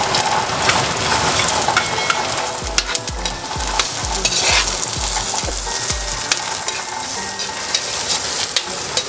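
Onion hits a hot pan with squid and fries with a loud, steady sizzle, while a spoon stirs and scrapes against the pan in a quick run of rhythmic strokes partway through.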